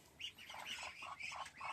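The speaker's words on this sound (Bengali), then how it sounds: "একটা হাঁস, বড় হাঁস, এখানে একটা বড় হাঁস আছে।" A few ducks give a string of quick nasal squawks and quacks, faint and somewhat distant, in a rapid uneven series without any talking.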